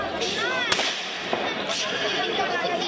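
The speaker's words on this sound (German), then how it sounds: "Der Schuss war nicht schlecht." A single sharp gunshot crack rings out at a Schützenfest bird shoot, followed by a fainter second report, over steady crowd murmur and voices.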